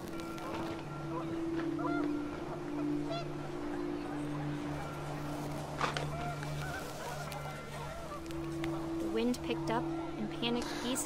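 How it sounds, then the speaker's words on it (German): Geese honk and rise into the sky in the video game What Remains of Edith Finch, their calls steady and overlapping beneath a low droning background with occasional brief louder bursts. "Gänse schrien, gen Himmel sich erhoben."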